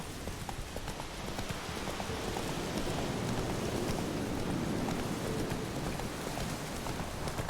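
Hooves of Roach, the horse in The Witcher 3 video game, clopping steadily beneath a dense wash of rain-like noise, with no voices.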